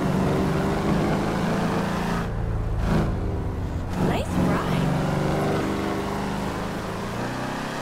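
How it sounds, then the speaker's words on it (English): A 2015 Ford Mustang GT in GTA 5 drones with a steady, loud engine and exhaust rumble that holds throughout, shifting slightly in pitch as it revs, with no pause or break. "This 2015 Mustang GT is off the charts, guys. And this exhaust note is amazing."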